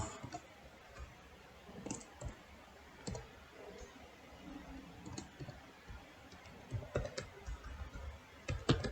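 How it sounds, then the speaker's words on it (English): Code being typed on a computer keyboard, a quiet irregular patter of key clicks in short bursts that grow busier toward the end, close and soft with no talking. "we want to type println of"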